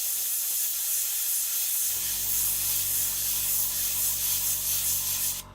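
Airbrush spraying yellow paint onto a miniature, a steady close hiss running without a break, with the airflow growing fuller and broader about two seconds in, then cutting off sharply just before the end.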